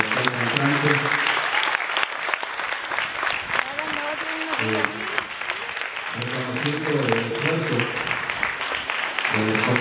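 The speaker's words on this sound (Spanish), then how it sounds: "les metemos un fuerte aplauso a las cuotas salientes" Steady applause from a crowd at a school diploma ceremony fills the whole stretch, while a voice keeps talking over the clapping.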